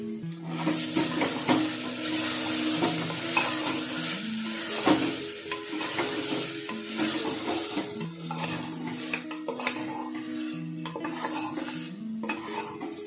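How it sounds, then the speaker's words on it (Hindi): Mutton frying with tomatoes in a pot for a home-made curry, a continuous soft sizzle with repeated scraping and clinking of a spoon stirring against the metal. "मटन को टमाटर के साथ भूनते हुए 5 मिनट हो गए हैं।"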